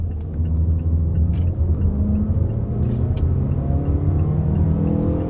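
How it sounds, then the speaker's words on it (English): Mazda CX-5 under full-throttle acceleration, heard from inside the cabin: a loud, steady low engine rumble and drone with a rising tone that holds throughout, plus faint light clicks. "So that's full throttle."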